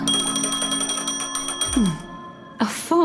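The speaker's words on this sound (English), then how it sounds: "A phone." Phone ringing in Honkai: Star Rail, a bright chiming electronic ring with repeating tones and a sweeping melodic flourish near the end, loud and close over steady game ambience.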